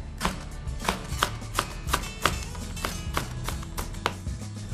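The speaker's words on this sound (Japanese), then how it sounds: "ここからですね、小口に切っていきたいと思います。" A knife chops vegetables on a cutting board in a Japanese kitchen while chilled tantanmen is being prepared, with about a dozen crisp, evenly spaced strikes that land close and clear with no talking.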